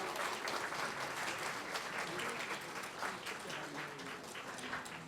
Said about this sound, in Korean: 목걸이 걸어줄 때 박수 다시 쳐주세요.